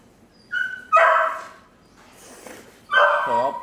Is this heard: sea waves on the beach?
no